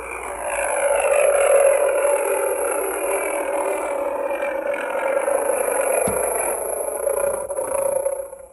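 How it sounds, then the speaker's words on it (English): Star Wars Toybox Slave 1 toy ship playing an electronic engine effect through a small speaker, a steady droning hum with a wavering tone that holds for several seconds, loud and close, alone. "this one makes the engine sounds which flash"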